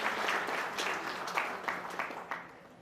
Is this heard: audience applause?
yes